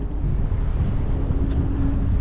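Wind buffets the microphone on a small skiff anchored at sea against the tide, a loud continuous low rumble with steady gusting and faint water movement beneath, no voices.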